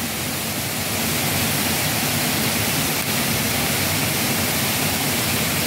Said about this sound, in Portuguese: Tá chovendo, rapaz.